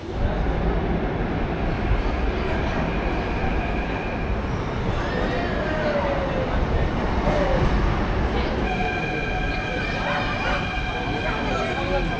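Jaipur metro train ride toward Mansarovar, a steady rumbling roar of the carriage in motion filling the whole stretch, with a brief high whine partway through and tonal chimes or signals near the end.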